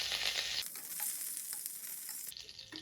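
Chana dal and urad dal fry in hot oil with curry leaves for a Mangalore-style southekayi sambar, a close, continuous bright sizzle with a brief burst of crackling and light stirring.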